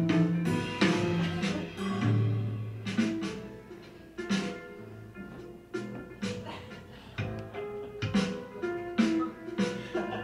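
Computer-generated music composed by a Ruby program imitating smooth jazz, playing continuously with layered harmonic notes and frequent percussive hits in an uneven, busy rhythm, moderately loud and with no talking.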